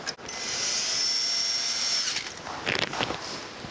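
A cordless power driver whirs steadily for about two seconds as it tightens a screw on a Mustang inner fender cover, followed by brief clicks and rattles of handling, close up and without talk.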